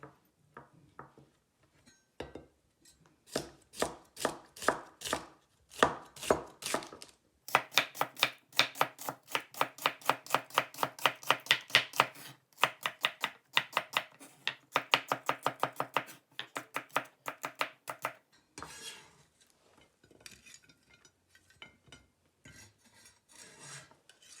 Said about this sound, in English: we need to cut the celery. I like to stack the celery to make cutting faster.